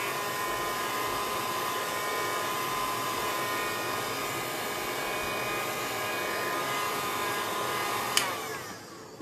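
A steady whirring hair dryer blows on the painted sides of a wooden sign, running loud and continuous close by, then cutting off with a small click near the end.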